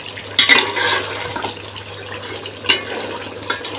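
Water is poured into a cooking pot of braised meat, giving a gushing, splashing pour with a couple of louder surges over a low steady hum, heard up close without speech.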